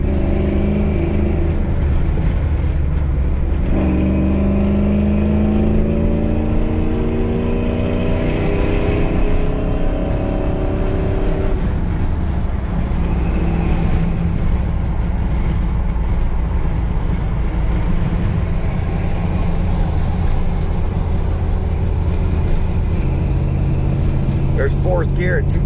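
A Ford truck with a fuel-injected 460 engine and stage 3 cam pulls uphill in fourth gear around 2,000 RPM, its loud, deep engine tone climbing steadily under constant road and wind roar.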